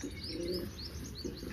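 Young pigeon chick, a red bird with yellow eyes, being handled before its wings are clipped, giving soft repeated coos and chirps close by, with no talking.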